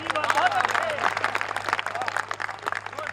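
Audience at a Hindi satirical poetry recital claps for the poet, a busy patter of hands with crowd murmur and a voice speaking over it, moderately loud and continuous for a few seconds.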